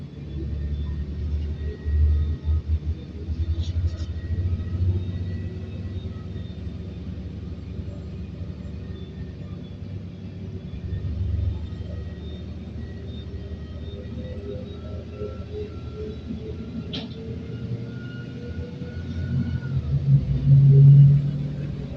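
A MAZ city bus on route 43 in Minsk runs steadily, its engine rumbling low and continuous with some swells of acceleration and road noise throughout, heard from inside the cabin.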